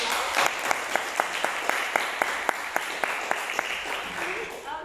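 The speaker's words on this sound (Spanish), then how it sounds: "Un fort aplaudiment pel Joel" A small audience at a school music recital claps for a performer before a blues piece, steady applause with one loud nearby clapper keeping a regular rhythm, and a voice speaking over the end.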